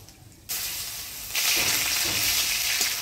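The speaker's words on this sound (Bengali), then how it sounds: "এবার কলমি শাকটা ভাজা করব, তো ফোড়নে দিয়ে দিব কালো জিরা" Black cumin seeds and crushed garlic hit hot oil in a village kitchen pan, a steady broadband sizzle that jumps louder partway through and holds, with no talking.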